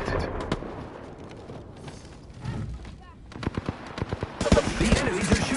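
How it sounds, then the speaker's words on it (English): Enemy gunfire in a shooter video game, a run of sharp rapid shots and bursts building in density toward the end, moderately loud and close, with faint voice chatter underneath. "The enemies are shooting at me"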